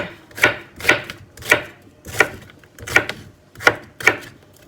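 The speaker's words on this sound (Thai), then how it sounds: "หั่นหอมสิเลน้อย" Shallots being sliced with a knife on a cutting board, a steady series of eight crisp chops at roughly half-second intervals, close and clear, with no talk over them.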